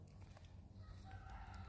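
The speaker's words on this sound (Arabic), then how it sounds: "سامعين الديك؟" A rooster crows faintly in a garden on a hot, humid morning, a short distant call over a low background hum.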